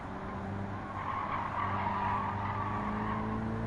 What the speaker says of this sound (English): to have a nice screech of the tires